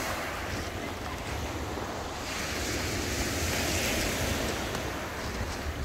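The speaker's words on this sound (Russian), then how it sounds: "Волны уже довольно-таки большие" Steady roar of sea surf breaking on a beach at Adler, Sochi, on the Black Sea, with gusty wind buffeting the microphone throughout and no voices.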